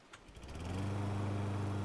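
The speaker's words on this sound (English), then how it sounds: "Sounds like a lawnmower." A small engine in the Stranded Deep survival game starting up and settling into a steady buzzing, lawnmower-like drone, quickly swelling to a constant level and running on alone.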